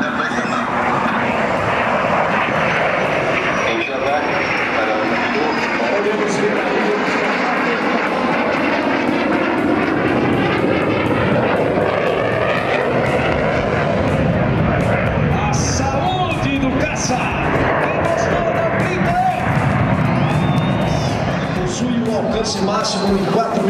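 A Saab F-39 Gripen fighter jet makes a low-speed pass at an air show, its engine roaring continuously and loudly, swelling and shifting in tone over a crowd. A commentator talks over it throughout.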